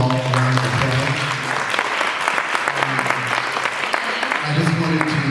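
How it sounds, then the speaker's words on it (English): Steady audience applause closing a panel discussion on women's homeownership, dense and continuous for about five seconds, with a voice speaking over it near the start and again at the end. "Let's give them all a round of applause."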